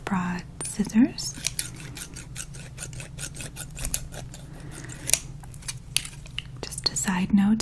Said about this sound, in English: I've brought scissors,